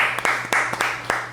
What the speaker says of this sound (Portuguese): uma salva de palmas para a equipe aqui da Dom Marco